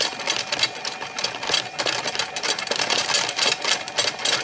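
A spinning magnetic flywheel top driven by 3-phase AC wobbles unstably, making a dense, rattling mechanical whir with a fast, uneven rhythm, steady and close throughout with no talking.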